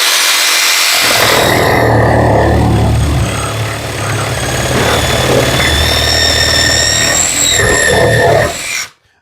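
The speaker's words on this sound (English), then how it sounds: "that is quite a bit of power for just this little handheld reciprocating saw" A Worx cordless handheld reciprocating saw cuts through wood, giving a loud, continuous buzzing drone with a rough rasping texture that holds steady for several seconds and then stops abruptly.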